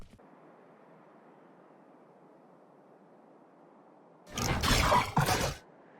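A KAY/O grenade going off in Valorant: after a low, quiet hum, a loud broadband blast erupts with a second burst right behind it, then cuts back to near silence.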